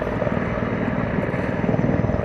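An Mi-171 military helicopter flying at the Duxford Battle of Britain air show, a loud, steady rotor thump and turbine roar filling the air throughout with no talking.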